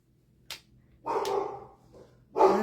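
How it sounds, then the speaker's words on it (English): A dog named Dozer barks three times outdoors, short sharp woofs spaced irregularly at moderate distance, with a faint steady hum beneath. "Who knows what he's barking at?"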